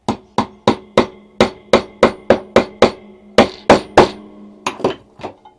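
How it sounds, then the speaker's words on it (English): Sharp metallic hammer strikes ring out as a hex key is hammered into place to seat it, a steady series of about sixteen blows, close and loud, with short pauses between groups. "I had to hammer it in place to get it to seat properly"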